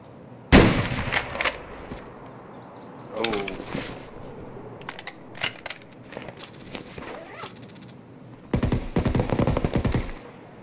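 Several AK rifles fire in a video game, with bursts of automatic gunfire at varying distances, some sharp and close, others muffled, and players talking between volleys.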